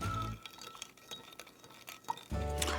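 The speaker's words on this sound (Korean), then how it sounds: "한 스푼, 두 스푼 하고 잘 저어줄게요" A spoon stirs gelatin powder into strawberry cream milk in a small cup, giving soft scraping and light clinks against the sides. Louder sounds come in at the start and the end.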